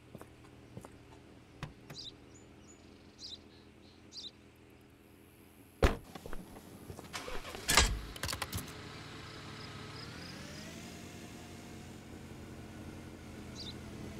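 In the video game Contraband Police, a car engine rises in pitch and pulls away, faint and steady, after sharp keyboard and mouse clicks and a brief burst of clatter.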